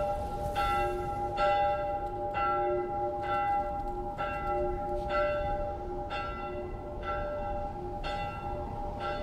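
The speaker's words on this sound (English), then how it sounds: "Turn that obnoxious frickin' bell off." A large church-style bell tolls in The Last of Us Part 1, about eight evenly spaced strikes with ringing decay, moderately loud, with no talking.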